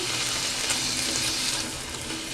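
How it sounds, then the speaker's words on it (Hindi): Onion slices fry steadily in hot oil, a continuous bright sizzle with no break, close and fairly loud with no voices. "इसे भी हम इसी ऑयल में फ्राई कर लेंगे अच्छे से।"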